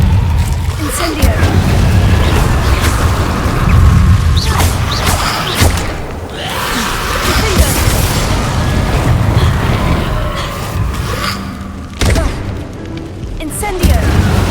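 Confringo blasting curse explosions in Hogwarts Legacy, a string of loud booms and thuds in close, irregular succession, mixed with clattering mechanisms and dense spell effects, with voices calling out over the blasts.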